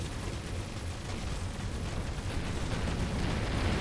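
Ship weapons firing in the space game Avorion, a steady, loud wash of rapid blasts and rumbling impacts that continues unbroken, with no voices.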